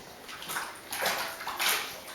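A small child splashes water in a dog bowl, a few short sloshing bursts of spattering water close by, growing a little stronger toward the end.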